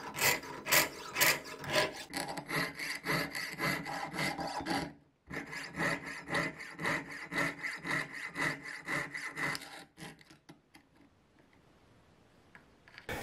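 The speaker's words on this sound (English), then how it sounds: "Facing the bench, keeping the saw straight up and down. Turning the metal, not the saw." A jeweler's saw piercing metal at the workbench gives rhythmic back-and-forth rasping strokes, close and steady, with a brief pause midway, then fading to quiet near the end.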